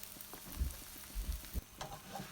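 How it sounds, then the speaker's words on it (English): Spinach omelette frying in a pan, a soft sizzle with a few low bumps and stirring sounds, fairly quiet with no talking. "Then turn to other side for check they are crispy and turn to golden brown."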